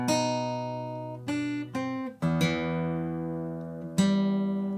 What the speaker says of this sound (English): So bar number 4 sounds like this.